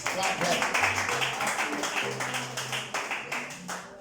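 Congregation clapping together at a Yoruba church gathering, a steady rhythmic run of claps under a preacher's voice and background noise.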